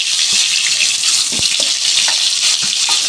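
Boiled, peeled eggs fry in hot oil with turmeric and salt, giving a steady, loud hissing sizzle with occasional soft pops and stirring clinks throughout.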